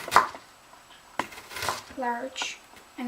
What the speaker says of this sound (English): I got a skinless onion, and we just cut in very small,